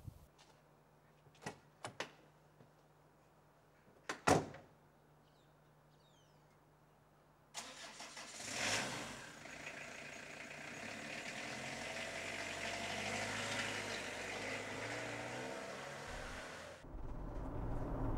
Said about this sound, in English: taking this motorhome for a test drive around the Yorkshire moors